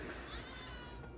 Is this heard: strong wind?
no